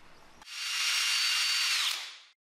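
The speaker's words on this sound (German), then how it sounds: "Wir bohren hier einfach mal mit 10 ohne Vorbohren" Power drill boring a 10 mm hole into chrome-nickel steel sheet without a pilot hole: a loud, close, high grinding whine starts abruptly, holds steady for about a second and a half, then fades and cuts off.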